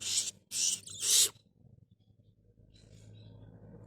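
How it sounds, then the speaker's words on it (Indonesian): An owl gives three loud, harsh screeching calls up close in quick succession, followed by quiet low background noise and a few faint high chirps. "Dimakan burung owl ini, burung hantu."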